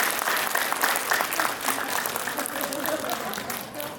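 Audience claps warmly at a citizens' education debate forum in Gwangju, Korea, a dense, sustained round of applause from a room full of people, with a voice heard briefly over it.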